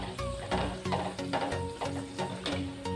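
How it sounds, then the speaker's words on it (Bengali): Beetroot kachoris fry in hot oil with a steady sizzle, while rhythmic stirring or turning sounds recur about every half second, close and fairly loud. "সমস্ত কচুরিগুলো এবার আমরা এভাবে ভেজে নেব।"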